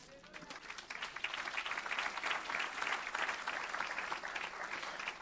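A church congregation breaks into loud, sustained applause, dense clapping building and holding steady with a few voices mixed in.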